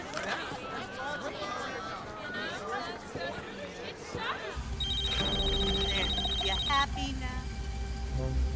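A cell phone rings in a steady electronic ringtone after several people talk, loud and close, with chatter continuing over it.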